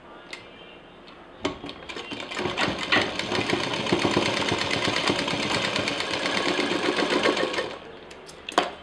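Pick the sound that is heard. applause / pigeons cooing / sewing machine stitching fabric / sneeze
sewing machine stitching fabric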